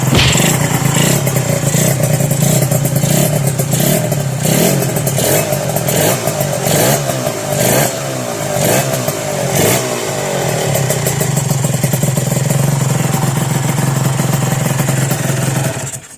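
A Yamaha VR motorcycle converted to a full TZR setup with an exhaust power valve runs loud and close, its two-stroke engine revving and crackling continuously with clattering mechanical noise and no talk over it.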